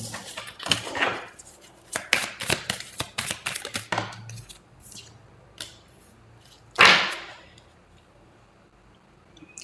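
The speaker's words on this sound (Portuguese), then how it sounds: "Vou embaralhar novamente." A deck of tarot cards being shuffled close up: quick riffling flicks and slaps in bursts, then a sharper final snap of the cards, with no talking.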